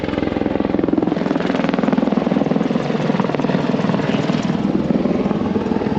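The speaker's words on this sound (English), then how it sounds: "Here comes a nice helicopter overhead." A helicopter flies low overhead, its rapid rotor chop loud and pulsing steadily throughout, dominating the scene with a broad whooshing roar.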